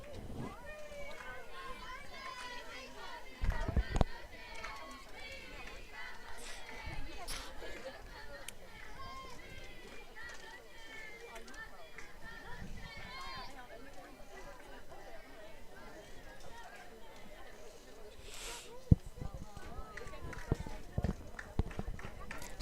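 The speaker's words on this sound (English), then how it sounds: "Still got a really good crowd out here." Steady murmur of a crowd chattering at a late-night high school softball game between Lawrence County and Marshall County, a broad continuous babble with a few sharper knocks and shouts rising above it.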